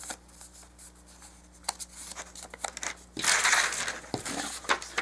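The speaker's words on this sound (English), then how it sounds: "the first fold is a valley fold. Mountain fold, valley fold," Paper being creased into alternating valley and mountain folds for a contemporary garden set craft piece: soft crinkling and rubbing near the mic, growing to a louder burst of crumpling, creasing and brushing in the last couple of seconds.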